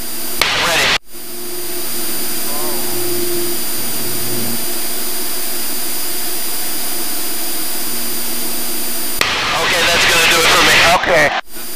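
A small aerobatic airplane's engine drones steadily and loudly at an airshow, with a cockpit voice talking briefly at the start and end over the constant roar.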